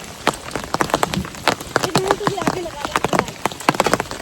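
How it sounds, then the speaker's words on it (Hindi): Heavy rain patters in sharp, irregular drops on a nearby surface, with voices talking over it. "इतनी तेज़ बारिश हो रही है।"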